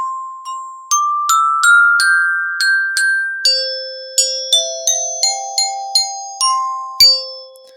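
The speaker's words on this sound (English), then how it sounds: "This is our new glockenspiel, and glockenspiel is a metal instrument." A metal-bar glockenspiel is struck note by note, bright ringing tones following a steady rhythm through a short melody, each strike clear and close with a sparkling decay, and no voices present.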